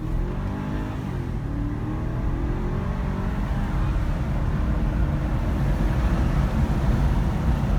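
A BMW car engine accelerates on a small country road, heard from inside as a steady, fairly loud low rumble that builds gradually over several seconds with no talking.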